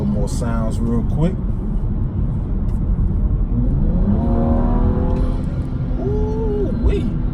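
A BMW 435 with a CTS Turbo intake revs up hard from a deep rumble, the pitch sweeping upward and dropping back in a couple of bursts, loud and close, with voices in the background.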